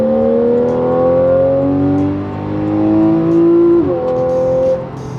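A Porsche 911 Carrera 4S (X51) in sport mode revs hard, its engine note climbing steadily, dipping briefly, then rising again before easing off, loud and close with no talking.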